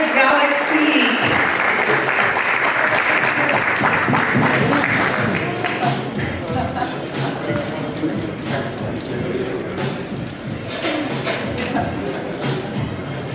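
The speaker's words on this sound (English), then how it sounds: "All right, a big round of applause" Loud, enthusiastic applause from a crowd at the HomeLife Galaxy grand opening, strongest at first and then easing to steadier clapping while voices carry on underneath.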